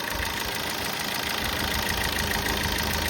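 A Maruti Suzuki Ertiga VDi diesel engine, a 2015 model, idles close by with the bonnet open, a continuous low rumble and faint knocking throughout and no pauses.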